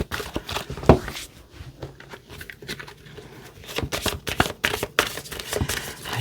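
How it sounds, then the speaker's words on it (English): Tarot cards are shuffled by hand in a close, crisp flurry of riffling and soft slaps, coming in uneven bursts with short pauses and no talking. "Let me just do one hand shuffle for each"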